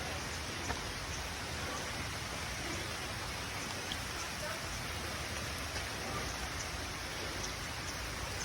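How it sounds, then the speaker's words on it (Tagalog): Heavy rain pours steadily on a sacred mountain route, a dense continuous hiss with no let-up, loud and close throughout. "masyado malakas yung ulan"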